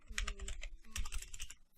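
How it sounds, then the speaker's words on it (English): Quick, quiet clicking taps on a computer keyboard as a search term is typed, a short burst of close keystrokes with no talking. "Let's just type in CodeBlocks."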